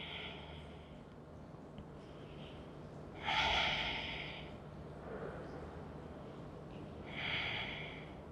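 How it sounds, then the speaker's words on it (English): Deep, slow breathing during a neck and shoulder yoga session, with two clear breath sounds about four seconds apart, close and soft, against quiet room tone and no talking. "Taking 2 more deep breaths."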